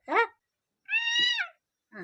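A hungry cat meows for food in three separate calls: a short cry, a longer drawn-out meow, then a brief final one, close and clear with silence between them.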